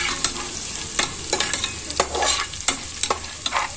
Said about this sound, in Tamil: கிராம்பு 3, கருவேப்பிலை 2 துண்டு சேர்த்து இஞ்சியும் சேர்த்து நம்ம பரட்டிக்கலாம்